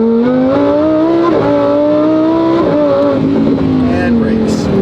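Supercharged Lamborghini STO pulling hard off the line, a loud engine note climbing in pitch through quick gear shifts, with people talking in the car over the roar.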